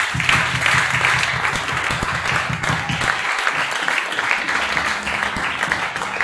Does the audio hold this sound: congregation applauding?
yes